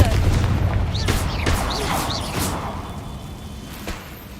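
A Confringo blasting spell bursts in Hogwarts Legacy with booming impacts and whooshing fiery streaks, several quick blasts close and loud in the first half before fading into rumbling quiet.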